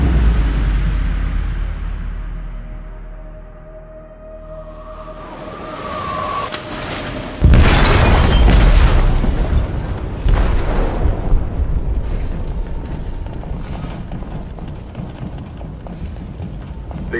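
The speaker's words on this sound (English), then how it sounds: "They detonated an explosive in the hold." An explosive detonates in a ship's hold in the video game Detroit: Become Human, a sudden heavy boom after a quiet rumbling stretch, followed by sustained roaring, crashing debris and low rumble.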